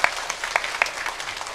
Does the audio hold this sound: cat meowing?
no